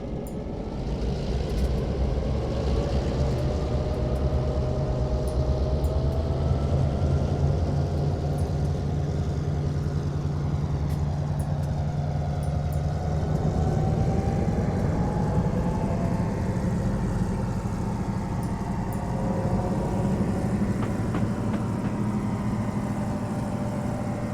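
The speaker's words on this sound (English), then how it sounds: "I'm going to be quiet for a second here so you can hear the engine sounds when it notches up" A Great Northern Empire Builder diesel locomotive in the video game Train Simulator 2016 rumbles steadily and loud, its engine drone rising in pitch partway through as it notches up, with no talking over it.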